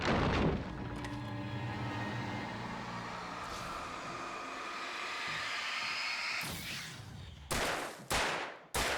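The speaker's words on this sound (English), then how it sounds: "Shotgun." Shotgun blasts in Alan Wake Remastered, first one loud shot at the start, then a quick volley of three sharp booming shots near the end, over a low rumbling game backdrop.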